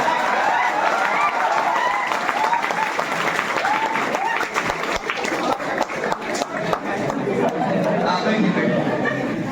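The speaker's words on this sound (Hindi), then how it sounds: "ये तो समझ में आएगा कि तालियों से स्वागत किया गया किशोर सर का" Audience applause at an award ceremony welcoming a teacher, steady dense clapping throughout with crowd chatter and scattered voices mixed in.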